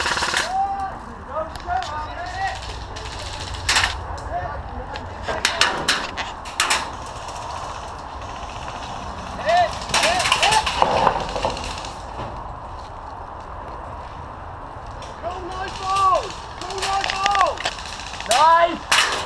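Airsoft rifles and pistols, an M4A1, M4, UMP-45 and G&G G26, fire during an outdoor skirmish game in Milton Keynes, with sharp bursts and rapid strings of shots at scattered intervals amid voices and background noise.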